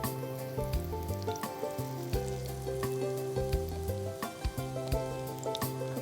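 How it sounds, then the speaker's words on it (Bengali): Vegetable cutlets fry slowly in ghee in a pan over low heat, giving a soft, continuous sizzle that stays faint beneath steady background music. "কম তাপে ধীরে ধীরে ভাজতে হবে, না হলে পুড়ে যেতে পারে। ভাজা হচ্ছে,"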